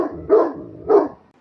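A dog gives two loud, close barks about half a second apart, each a short rounded woof, followed by quiet.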